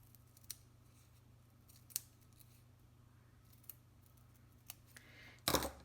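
Scissors snip paper strips with a few sparse, sharp clicks spread out in a quiet room, ending in a louder rapid burst of cutting.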